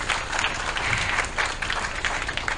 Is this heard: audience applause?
yes